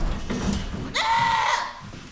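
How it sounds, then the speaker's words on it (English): Hungry goats bleat in a barn at chore time: a low murmur, then one loud, drawn-out, wavering bleat close by that fades away. "you can hear the goats. They're throwing a fit"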